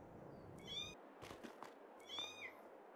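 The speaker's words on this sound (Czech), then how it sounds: "tady je kočka, potvora jedna" Cat meowing in the Farming Simulator 22 video game on a new Czech map, two short clear meows about a second apart over quiet background ambience.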